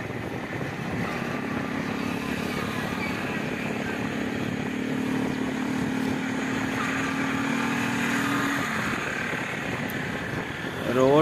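Motorcycle riding slowly along a badly broken road in Pakistan, a steady low engine drone with rattling road noise that holds evenly for several seconds, close and continuous.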